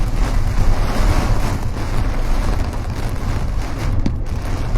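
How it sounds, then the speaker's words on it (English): Strong storm wind gusting around 55 mph batters the microphone in a loud, continuous rumbling roar with surging gusts and no speech. "Definitely have 55-mile-an-hour wind gusts outside right now, no doubt about it."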